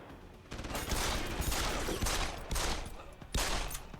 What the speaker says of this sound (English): My goodness, how many bullets did that take?